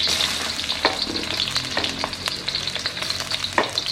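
Onion and ginger sizzle steadily in a hot pan, with soft stirring scrapes and clatters over a constant frying hiss.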